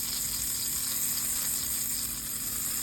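Butter sizzles and crackles steadily in a hot cooking pot, a constant bright hiss that stays close and even throughout.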